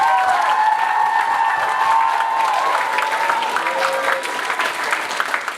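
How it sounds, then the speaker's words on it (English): Audience at a school talent show clapping and cheering in a steady, dense round of applause, with a few voices calling out over it as it gradually thins toward the end. "can we actually give him a real clap this time?"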